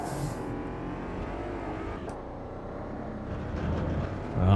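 VW Polo race car engine in Automobilista 2 at the Velopark or Monaco track, a steady loud drone with rising and falling harmonics through the whole stretch and a sharp blip near the end as the gearbox drops into second.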